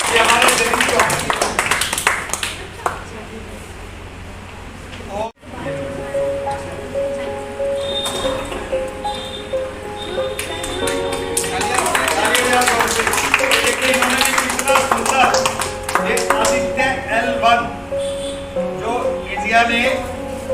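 An audience of children claps during an art competition event in India, with applause swelling in loose bursts, overlaid with talk and a tonal music-like hum, and a sharp break partway through.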